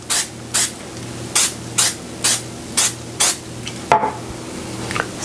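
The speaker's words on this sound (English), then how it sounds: "now I have to take an offset spatula and spray it with cooking spray" Cooking spray hissing onto an offset spatula in a kitchen, eight short even bursts about half a second apart, close and loud, followed by a light clatter.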